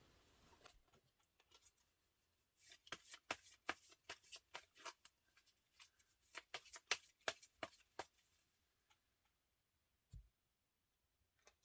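Tarot cards being shuffled in quick bursts of crisp riffling and soft slaps, clustered through the middle with a few scattered taps, close and fairly quiet with no talk.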